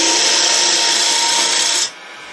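Up close on a wood lathe, a scraper works a hollow lid, giving a loud, steady hiss and whir for nearly two seconds that then drops to a low background hum.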